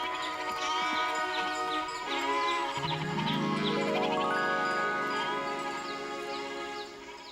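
Goats bleat in a mountain pasture, with several overlapping wavering calls close by. A melodic musical score rises beneath them and gradually swells, and the bleats continue alongside it.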